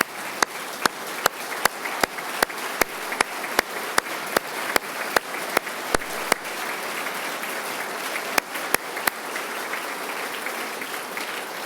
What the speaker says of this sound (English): Please also stand so we can give you a round of applause.